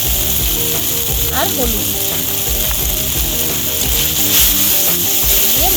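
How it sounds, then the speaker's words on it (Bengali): A ground peppercorn spice paste for a Bengali taro-paste dish sizzles loudly and steadily in hot oil in a pan, with scraping and stirring sounds and brief speech over it. "এবার এই মশলাটা আমি দিয়ে দেবো তেলের মধ্যে।"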